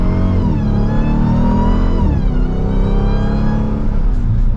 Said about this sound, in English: now it's time to get this Durango Hellcat out on the road. And as we give it another acceleration